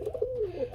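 A pigeon gives a soft cooing call close by at a pigeon farm, as a single brief rolling coo.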